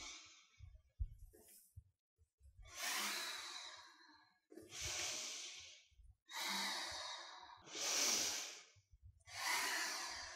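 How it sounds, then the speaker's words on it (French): Deep, slow breathing during a yoga session in a studio, long airy inhales and exhales in a steady cycle of about six breaths, close and alone. "Approfondis la respiration."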